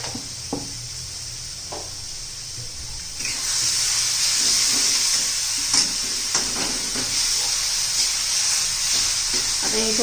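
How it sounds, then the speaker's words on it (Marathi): Tomatoes and salt sizzle and fry in a pan for palak chana masala, a steady bright hiss that swells louder partway through, with occasional stirring clatter and no talk. "आता त्याच्यामध्ये आपण टोमॅटो घालून घेऊया. टोमॅटो पटकन मऊ होण्यासाठी आपण मीठ घालणार आहोत."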